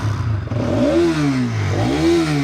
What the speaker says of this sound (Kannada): ಏನು ಗುರು ಈ ಬೈಕು ಒಳ್ಳೆ ಯಮಹ ಥರ ಕಿರ್ತದೆ.